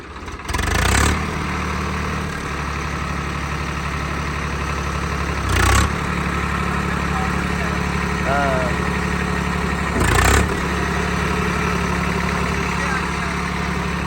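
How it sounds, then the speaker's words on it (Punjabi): A Swaraj 855 tractor engine, boosted to 65 horsepower, runs steadily with a low, constant rumble, with a few brief louder bursts and a faint whistle-like sound partway through. "ਜ਼ੋਰ ਵੀ ਪੂਰਾ ਮਾਰਦਾ ਟਰੈਕਟਰ"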